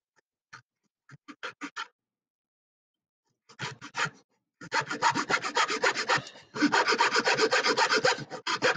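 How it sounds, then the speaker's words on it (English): A hand saw cuts a miter joint across the grain of wood: a few short, separate rasping strokes start the kerf, then quick, steady back-and-forth sawing rasps close by. "these saws on this cross grain like this work pretty well"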